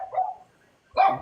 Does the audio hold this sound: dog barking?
yes